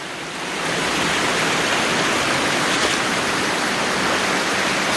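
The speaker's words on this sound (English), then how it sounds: "That's where the water starting from, coming down the stream" Stream water rushing down from the falls at Champagne River in Saint Ann, Jamaica, a loud, steady broadband roar of flowing water, close and unbroken throughout.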